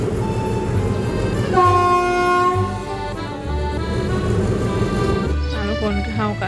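A train rumbles past nearby at Ayutthaya station in Thailand with a steady clatter, and a loud horn sounds partway through; voices are faintly present.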